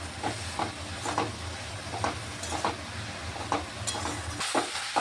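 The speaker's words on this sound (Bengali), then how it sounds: "দেখুন মশলাটা কষিয়ে নিচ্ছি ভালোভাবে" Thick spice paste of chilli and turmeric sizzles quietly in a pan, with soft hissing and a rhythmic series of scraping stirs, close by.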